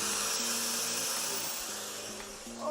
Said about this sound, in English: I was just getting some sanding done with the vacuum on. Quite loud.